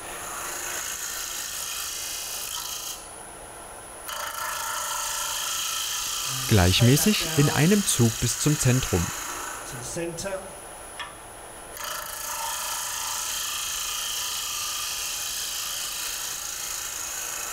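Steady rushing scrape of a wood lathe turning a square bowl as a negative-rake scraper is drawn across the spinning wood, stopping briefly twice, with someone speaking in a pause.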